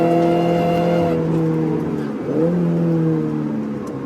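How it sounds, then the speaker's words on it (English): Race car engine holding fourth gear on the Winton circuit with the throttle balanced, a steady loud droning tone that dips briefly and then settles back. "So this is just fourth gear, balancing on the throttle."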